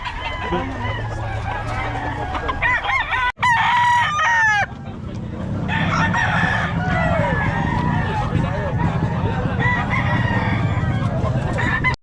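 A rooster crows loudly several times over a noisy crowd, with people chattering in the background and a sharp bang partway through.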